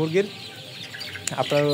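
Backyard chickens cluck and call close by while pecking at fresh neem leaves, with short harmonic squawks at the start and a sustained call at the end over faint background noise.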